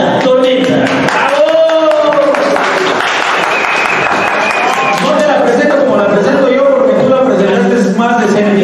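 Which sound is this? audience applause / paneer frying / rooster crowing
audience applause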